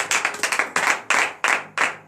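Several people clap their hands in quick, uneven bursts during a church prayer service, up close, with no voices heard.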